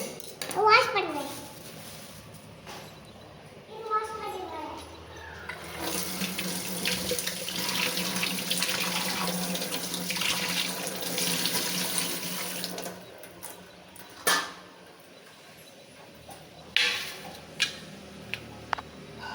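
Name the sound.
washing something under running tap water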